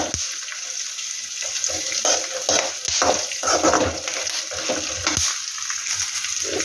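Steady dry sizzling and crackling of peanuts frying, with scraping stirs across a pan, continuous and close, with no voices.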